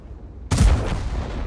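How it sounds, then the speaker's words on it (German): An ammo rack explodes in World of Tanks on the Berlin map, a sudden deep, heavy boom that follows a quiet moment and then rumbles down. "Oh, Munitionslager,"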